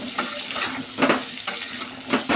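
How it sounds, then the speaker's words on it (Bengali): Pumpkin, eggplant and potato fry in hot oil with a steady, close sizzle, while a spoon stirs and scrapes the pan in several short bursts. No one speaks. "কুমড়ো আর বেগুন দিয়ে দিয়েছি তেলের মধ্যে।"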